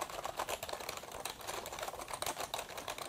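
Rapid, continuous typing on a Silver Monkey X Madrill backlit keyboard, with loose keys giving a dense run of close, fairly soft clicks and clacks and no talking.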